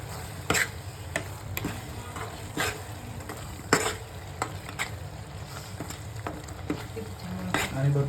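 Pav bhaji masala is stirred into vegetables frying for Mumbai street-style pav bhaji, with a spoon clinking against the pan in an uneven rhythm over a steady, close sizzle.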